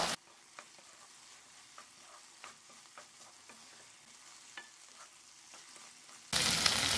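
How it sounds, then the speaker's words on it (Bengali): Okra and chicken being stir-fried with tomato sauce over a raised flame: a quiet, steady sizzle with sparse light scrapes and taps of a spatula, then a sudden loud burst of broadband noise in the final half-second. "চুলার ফ্লেমটা বাড়িয়ে দিয়ে একসাথে মিশিয়ে নেড়েচেড়ে ফ্রাই করে নিচ্ছি"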